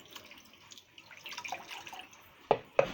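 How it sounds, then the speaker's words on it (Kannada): Water runs from a tap in a soft, uneven trickle, then two sharp splashes or drips land near the end, quiet and close with no talk. "ನೀರು ಹಾಕು"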